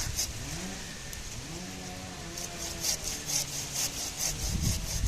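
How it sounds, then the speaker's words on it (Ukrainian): Hand saw cutting through a thick dahlia stem at close range, a rough scraping grind with rhythmic strokes picking up toward the end, heard outdoors with no talk. "Тут буду різати пілочкою, тому що тут такий стовбур."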